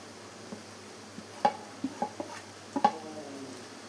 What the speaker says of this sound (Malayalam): ഇനി നമുക്ക് ഇതിലോട്ട് ചിക്കൻ ആഡ് ചെയ്ത് കൊടുക്കണം.